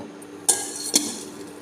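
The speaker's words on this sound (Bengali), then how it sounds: "আমি এবার একটা ঢাকনা দিয়ে দেব।" A metal lid is set on a pot of boiling apple: two quick, bright clinks about half a second apart, heard close over a steady low simmering hiss.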